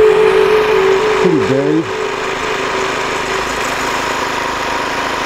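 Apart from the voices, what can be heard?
snowblower engine starting and running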